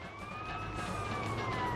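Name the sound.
police car siren in the video game GTA Vice City Stories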